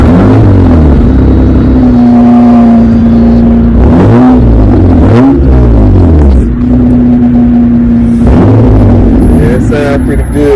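An old, ragged yard truck engine revs up and settles several times, its pitch climbing and falling in repeated swells, loud and close throughout.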